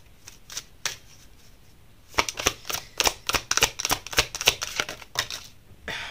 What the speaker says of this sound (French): je vais tirer une carte d'oracle encore